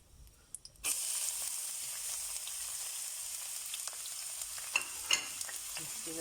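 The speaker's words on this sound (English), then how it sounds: "the star anise seed, and we're going to let that fry up" Star anise and chili sizzling in hot oil in a pan, a steady bright crackle that starts abruptly and continues with occasional louder pops, no voices.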